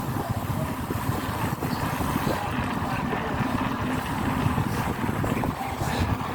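Motorboat engine droning steadily and loudly up close, a continuous rumbling roar mixed with wind buffeting the microphone throughout.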